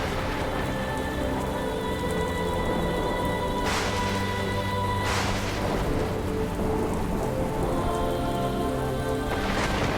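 Heavy rain pours down steadily in a storm, a dense and constant wash of drops with brief rumbles of thunder breaking through, and no voices.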